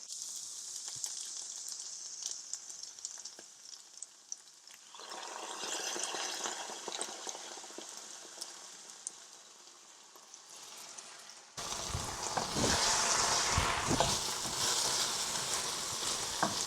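A paprika and sherry vinegar mixture cooking and being stirred over heat: a faint, steady hiss and sizzle that grows louder partway through, with light scrapes of stirring, close by.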